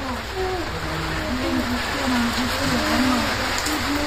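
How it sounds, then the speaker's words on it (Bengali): Steady rain falls throughout as a dense, continuous wash, with a person's voice talking over it. "কতদিন পরে বৃষ্টি হইতেছে না?"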